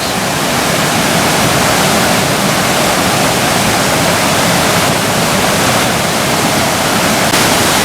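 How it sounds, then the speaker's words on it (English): Bushkill Falls in Pennsylvania pouring over rocks, a loud, dense and constant roar of rushing water heard up close, unbroken for the whole stretch with no voices. "just listen to the water come down over the rocks"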